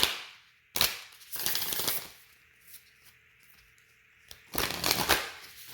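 A tarot card deck is shuffled in three sharp riffling bursts, close and crisp, with quiet pauses between them.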